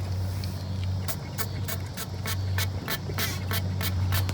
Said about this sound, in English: I'm gonna spray quite a bit of it into the barrel